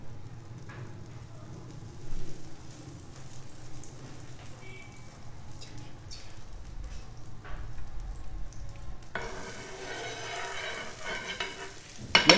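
Keto roti frying in butter on a pan, a soft low sizzle with faint scraping that swells into a louder, bright crackling hiss near the end, heard close and without talking.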